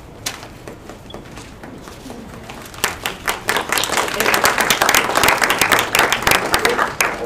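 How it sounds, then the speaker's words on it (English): Audience clapping at a Longmont city council meeting begins as sparse, scattered claps, then swells into fuller, louder applause after a few seconds and keeps going to the end. "If we're going to have any clapping, we're just going to have to take breaks."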